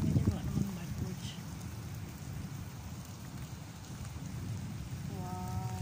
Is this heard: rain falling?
yes